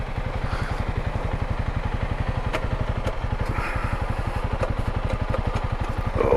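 A Honda CRF300L and a Yamaha XT250 dirt bike ride through Butcher Knife Canyon after a flood, their single-cylinder engines thumping in a fast, steady close pulse with rattling clatter throughout.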